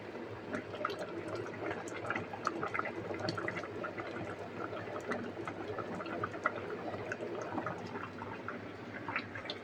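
Food boiling in a pot on raised heat gives a steady bubbling and gurgling with scattered small pops and drips, moderately loud and close, with no voices.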